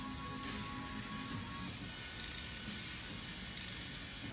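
A ratchet tightening motorcycle bolts, a rapid run of close, quiet clicking pawl strokes repeating in steady bursts.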